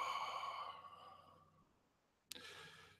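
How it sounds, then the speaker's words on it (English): A long, deep breath in taken slowly during a calm guided new-moon ceremony, fading out before a brief sharp sound near the end. "So take in a deep breath."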